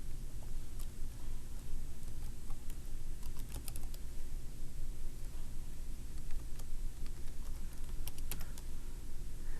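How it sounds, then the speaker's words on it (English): Rapid, irregular clicking of computer keyboard keys as a login and password are typed, close and clear with short pauses between bursts of keystrokes. "So let me type in my login and password."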